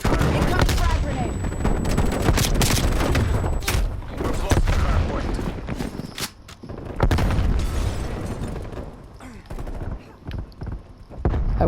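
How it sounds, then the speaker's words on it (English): Frag grenade explosion and rapid gunfire in a Call of Duty: Black Ops Cold War Hardpoint multiplayer match, dense and loud throughout, with booms and bursts of shots under game voice callouts. "Frag grenade."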